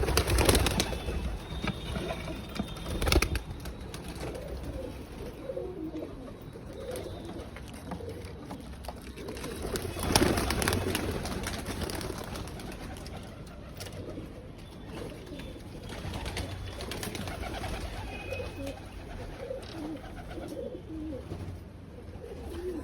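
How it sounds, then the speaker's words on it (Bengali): Pigeons coming down one by one after leaving their coop, with soft cooing over a constant outdoor background, some bursts of louder noise early on and a sustained muffled hum. "পায়রা নামছে একটা একটা করে।"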